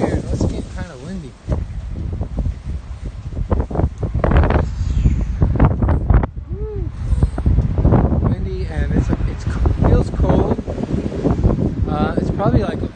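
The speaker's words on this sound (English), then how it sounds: "the wind blowing in our ears" Wind buffets the microphone during a bike ride in Osaka, Japan, loud gusty rumbling that surges and drops under a person talking throughout.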